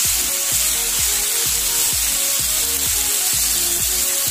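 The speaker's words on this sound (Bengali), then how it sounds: "এবার আমি হাই ফ্লেমে মিনিট পাঁচেক সবটা নাড়াচাড়া করে ভেজে নেব।" Finely chopped banana stem fries on a high flame in a steady, loud sizzle, with rhythmic scraping strokes of stirring about twice a second throughout.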